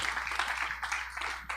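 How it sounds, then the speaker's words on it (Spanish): A church congregation applauds the Lord, a dense, sustained wash of clapping that fills the space for the whole moment without pause. "Dele ese aplauso al Señor."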